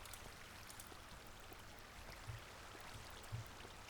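Flowing water in Minecraft, a faint, steady rushing trickle with no other sounds over it.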